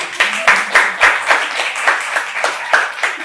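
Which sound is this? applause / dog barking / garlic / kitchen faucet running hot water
applause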